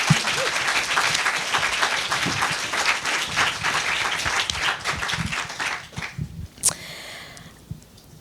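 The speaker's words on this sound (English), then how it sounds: "Please give both of our guests tonight a huge round of applause." An audience at an evening talk with two guests applauds in a dense, steady round of clapping that fades out after about six seconds, leaving a few scattered claps.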